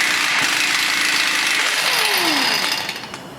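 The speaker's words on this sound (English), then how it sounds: "grab our 32mm socket and either a breaker bar, if you don't have air tools, or a 1/2-inch impact gun" A 1/2-inch impact gun with a 32mm socket works on the CV axle nut of a 2010-2015 Chevrolet Volt, giving a loud, continuous harsh pneumatic whirr that fades at the end.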